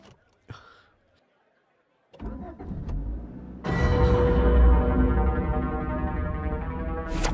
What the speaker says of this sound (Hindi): गाड़ी स्टार्ट हो गई है, कम फास्ट